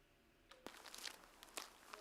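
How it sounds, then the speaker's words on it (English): Footsteps crunching through loose stones on a walk, a few quiet irregular steps heard faintly and up close. "That is the sound of my feet walking through stones,"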